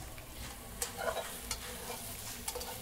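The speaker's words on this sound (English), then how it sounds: "Give it a good stir." A tofu stir-fry with a little sugar gets stirred in a hot pan: a constant sizzle with spatula scrapes and clinks at intervals, close and moderately loud.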